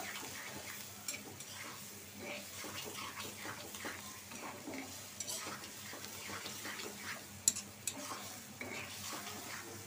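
Spice paste being stir-fried in a pan for a dried fish bhuna, with a steady soft sizzle and frequent light scraping strokes of a spoon, fairly quiet and continuous, with no talk.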